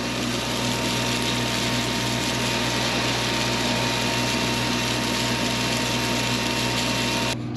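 A bean planter with its seed hopper open runs steadily, producing a constant mechanical whirring and rattling drone as it draws in seed and fills rows, then cuts off abruptly at the end.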